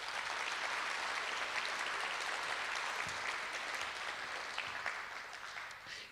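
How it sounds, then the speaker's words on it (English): A round of applause from the audience at the Santa Cruz County 2022 Artist of the Year event, honoring the arts commission: dense, steady clapping that runs the full six seconds and thins slightly at the end. "Please give them a round of applause"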